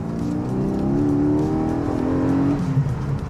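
A Porsche 718 Boxster GTS 4.0 flat-six engine revs up, its tone rising and then falling back over a few seconds, heard steady and fairly close with no talking.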